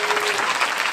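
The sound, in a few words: congregation applauding for Jesus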